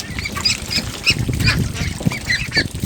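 Pekin ducks at a farm quack and honk repeatedly while being fed mango at midday, a close flock calling in quick overlapping bursts over a dull background of shuffling and eating.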